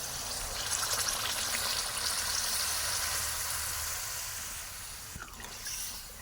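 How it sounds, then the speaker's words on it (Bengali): Water added to a pan of beef curry sets off a broad, steady hiss and sizzle that gradually settles, fairly close and alone, with a faint clatter near the end. "এবারে দিয়ে দেবো পরিমাণ মতো জল।"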